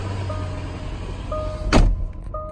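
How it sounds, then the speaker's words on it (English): A 2012 Range Rover HSE idling after a push-button start, a steady low engine hum with intermittent tonal chimes and a short loud whooshing thump near the end. "Car starts right up."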